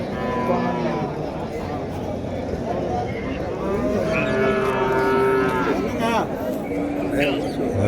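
Native cattle lowing at the Uthangarai cattle market in Krishnagiri district, several drawn-out moos from nearby animals over a busy crowd with people talking throughout.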